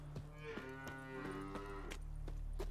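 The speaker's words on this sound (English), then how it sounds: "Hi, cow." A cow in a video game gives a long, drawn-out moo, loud and near against a steady low hum and scattered clicks, with no one talking during it.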